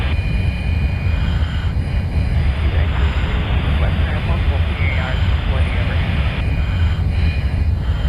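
F-35 jet engine thrust in Microsoft Flight Simulator during a landing approach with gear down, a loud continuous roar with airy rushing noise, steady throughout, with someone talking over it.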